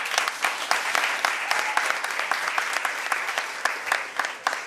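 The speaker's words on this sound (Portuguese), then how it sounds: "Aplauda, Jesus." A church congregation applauds during a worship event, a steady wash of many clapping hands with sharp individual claps standing out, fairly loud and sustained.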